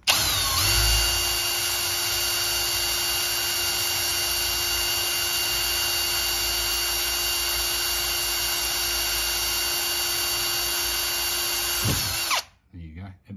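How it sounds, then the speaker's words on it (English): A power drill running fast in reverse bores a hole through an acrylic plexiglass sheet, a steady loud whine held for about twelve seconds before stopping abruptly, with faint handling noise after. "It's on fast, and I'm going to drill a hole backwards."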